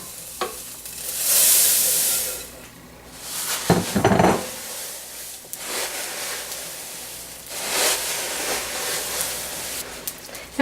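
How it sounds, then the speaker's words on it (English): Rice Krispies are folded into molten marshmallow off the heat, giving soft sticky stirring and scraping sounds in bursts, with a louder clatter near the middle. "We're going to turn off the heat and fold in our Rice Krispies."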